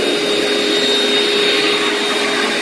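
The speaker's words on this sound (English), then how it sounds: "Now he's gonna vacuum north to south and then west to east or east to west." A vacuum cleaner runs over carpet before steam carpet cleaning in a Champions Gate home, giving a loud, unbroken close-range roar with a thin whine on top and no talking.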